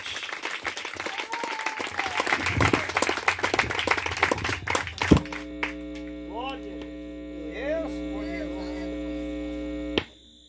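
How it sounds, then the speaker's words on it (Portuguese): Congregation clapping loudly during an evangelical church service, dense crackling applause for about five seconds, then giving way to a steady electrical hum with faint musical tones. "Vamos receber o céu de Deus com palmas bem fortes."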